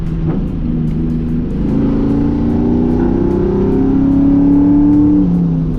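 A Ford Mustang engine with a louder aftermarket exhaust revs loudly with a deep, throaty exhaust note, rising and sustained over several seconds, close by with no talking.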